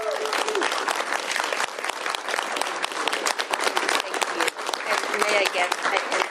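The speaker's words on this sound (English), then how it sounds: "Please give them a round of applause as we sign it." Sustained applause from an audience at a governor's bill signing fills the whole stretch, steady dense clapping with no break, fairly close and loud.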